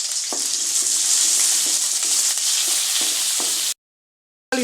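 Steady, loud sizzling of curry leaves frying in hot oil for a Tamil vatha kuzhambu, with a few faint stirring clicks, then a sudden cut to silence near the end.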